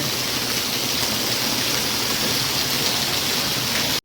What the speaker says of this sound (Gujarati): તમે જોઈ રહ્યા છો વરસાદ કેટલો આવી રહ્યો છે, ફૂલ વરસાદ છે